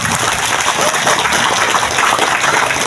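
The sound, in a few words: audience applause at a temple ceremony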